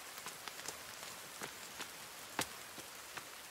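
Soft, steady rain in the survival game The Forest, a quiet hiss of falling water with scattered sharper droplet ticks on surfaces, faint and continuous with no voices.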